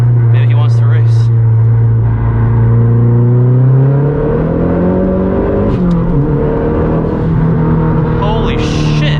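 A Mazdaspeed 3 accelerates hard from inside the cabin, the loud engine note climbing steadily in pitch, dipping at a gear change and then rising again, with occupants' voices briefly audible over it.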